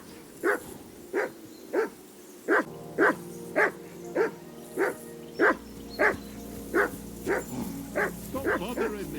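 In the video game Kingdom Come Deliverance 2, a dog barks in a steady series of about fifteen close, evenly spaced barks that grow quicker toward the end, over a low game hum.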